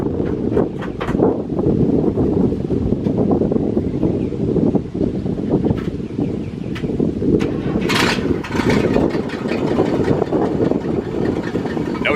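A 1961 GMC 5000 truck's 351 V6 engine, fitted with a Holley carburetor conversion, runs steadily at close range, its continuous low rumble mixed with wind buffeting the microphone throughout.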